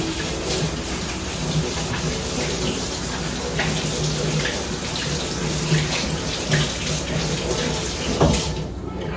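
Water tap running steadily into a sink while hands are washed, a continuous close splashing hiss that holds throughout and cuts off near the end.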